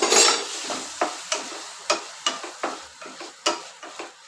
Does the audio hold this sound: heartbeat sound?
no